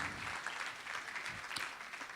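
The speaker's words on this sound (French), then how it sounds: "On les applaudisse bien fort." An audience at an award ceremony applauds in a short, dense burst of clapping that holds steady throughout, with no voices over it.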